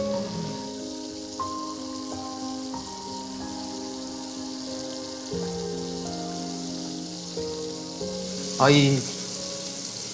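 Starch-battered food frying in hot oil, a steady rain-like sizzle running throughout beneath background music, with a brief louder bubbling surge near the end.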